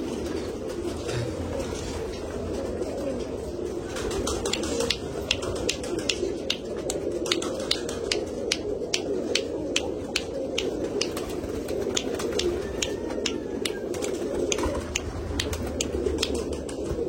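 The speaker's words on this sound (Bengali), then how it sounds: "এখানে একটা পায়রা এসে বসে আছে আমার গায়ের কাছে, প্রচুর গরম হয়ে আছে পায়রাগুলো" Many pigeons in a large Andra pigeon loft in Kolkata coo in a dense low murmur, steady and close, with light clicks and taps.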